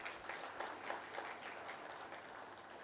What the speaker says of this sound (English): Warm round of applause for all of them, please